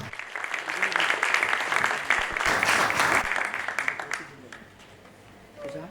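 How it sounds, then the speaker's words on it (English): At a book launch for a volume on RBI governors and monetary policy, an audience breaks into a steady burst of applause. The clapping is dense and fairly loud, then tapers off, and a voice starts speaking at the very end. "Another round of applause for that."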